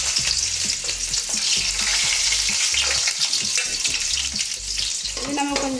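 Garlic sautéing in a hot pan for restaurant-style chilli chicken, a loud continuous sizzle with scraping stirs and clanks throughout, close and steady.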